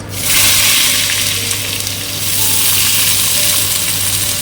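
Onions dropped into hot oil already holding cinnamon, mace, cloves and cracked cardamom, bursting into a loud, steady, close-up sizzle that holds throughout with no talk.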